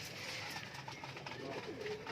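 Crossbred house pigeons coo softly in a rooftop loft, their low murmuring calls repeating faintly against a quiet outdoor background, with a voice talking intermittently.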